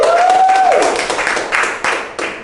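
A comedy club crowd at a New Orleans comedy festival applauds and cheers, a loud wash of clapping that follows a brief whoop and gradually thins out.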